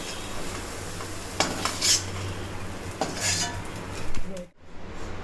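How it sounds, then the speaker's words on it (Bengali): A spoon scrapes and clinks against a wok while fish kabiraji filling is scooped out, several metallic scrapes over a faint sizzle before a sudden cut to near silence. "এবার কড়া থেকে আস্তে আস্তে এই পুরটা তুলে নেওয়া হবে"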